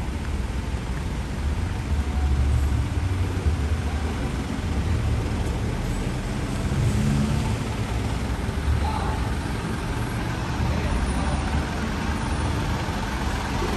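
A used 2014 Isuzu Elf box truck rumbles steadily as it drives along the road, a low continuous engine drone with road noise and no clear talk.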